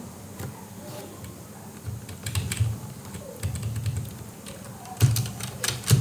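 Typing on a computer keyboard while entering a sentence into HTML code: steady close, light key clicks with a few louder bursts of quick taps, and no talk over them.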